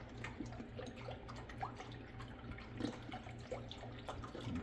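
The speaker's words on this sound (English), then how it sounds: "So I'm adding a full 32 ounces of beef broth to this." A full 32 ounces of beef broth pours into a soup pot for lasagna soup, making a steady, close liquid splash and trickle with small drips that lasts the whole stretch, with no talking.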